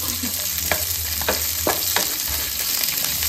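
Onion slices fry in a pan for a Malai pyaaz dish, giving a steady close sizzle with several short stirring scrapes at intervals, with no talking.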